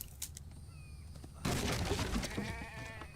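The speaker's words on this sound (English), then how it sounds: "Oh, I can hear a sheep." A sheep bleating in the survival video game The Infected, a wavering cry that rises sharply after a quieter stretch of ambient outdoor sound and trails off with a trembling tone.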